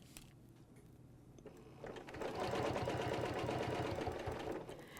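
Sewing machine quilting along a ruler template runs quietly at first, then picks up into a steady rapid stitching rhythm, close and moderately loud, with no talk.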